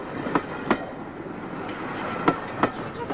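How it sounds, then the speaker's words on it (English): Flying Scotsman steam locomotive train running, a steady rumbling roll with periodic sharp clicks from the wheels on rail joints, heard close and continuous without voices. "I'm recording the sound of the locomotive."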